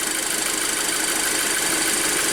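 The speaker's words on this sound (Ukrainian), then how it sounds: "А ну, у кого так рівно мотор працює?" A petrol Audi A6 engine idles evenly after a timing belt repair, giving a close, continuous mechanical hum with a steady, fine ticking rhythm and no talking over it.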